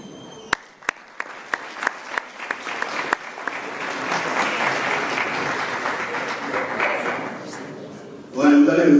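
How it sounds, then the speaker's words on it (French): A crowd at an excellence awards ceremony in Yamoussoukro applauds a representative, starting with a few sharp, separate claps that swell into sustained dense applause, then a voice breaks in loudly near the end. "On applaudit le représentant."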